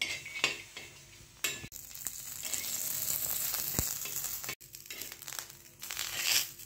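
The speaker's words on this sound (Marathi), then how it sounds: "आता खोबरं भाजून घेऊयात थोडंसं।" Dry coconut roasts in a pan for a chicken curry, giving a quiet, crackly rustle with intermittent scraping and stirring clatter, nearby and with no voices.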